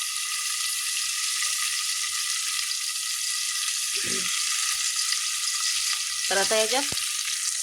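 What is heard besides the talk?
onion frying in a pan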